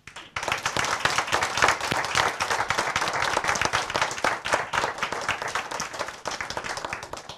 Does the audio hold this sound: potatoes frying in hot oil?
no